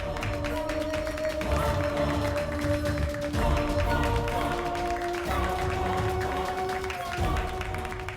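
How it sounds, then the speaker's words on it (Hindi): A crowd in a Hindi TV drama scene claps steadily, with dense applause continuing over background music and voices. "तो ताली बजाइए आप लोग।"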